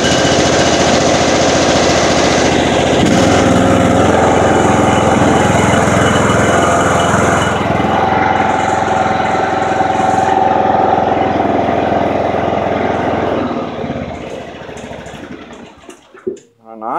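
A Toro Timecutter riding mower engine, just reassembled, runs loud and close with a steady throttled roar that rises as gas is added, then winds down and cuts off near the end.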